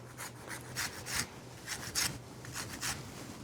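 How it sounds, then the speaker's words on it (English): A whole lemon is zested on a grater, giving quiet, rhythmic rasping strokes in short repeated bursts, with no talking over them. "we're going to go ahead and zest the entire lemon"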